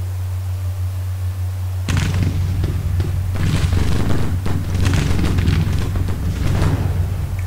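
Civil War artillery cannons firing in Grand Tactician: Civil War on an Arkansas front, a dense run of heavy booms and rumbling thuds that starts suddenly after a short hum and stays loud throughout.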